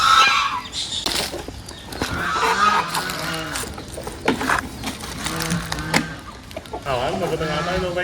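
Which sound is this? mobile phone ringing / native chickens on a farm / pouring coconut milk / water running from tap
native chickens on a farm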